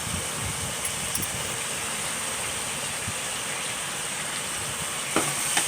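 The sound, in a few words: shrimp sizzling as added to frying pan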